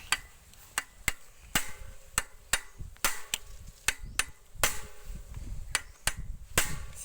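Repeated hammering on something broken to keep it from moving, a series of sharp, irregular knocks at close range with faint background noise between blows.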